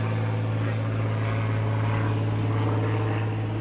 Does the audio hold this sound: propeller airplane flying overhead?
yes